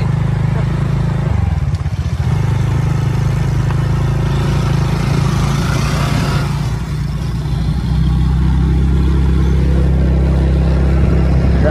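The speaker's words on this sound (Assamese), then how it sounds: "ইয়াৰ বাইকখন দেখিলোঁ আৰু অকণমান চলাই চাং বুলি ভাবিছোঁ" A motorcycle engine runs close by, holding a steady low throbbing drone with a brief dip and rev early on, while a voice talks faintly at times underneath.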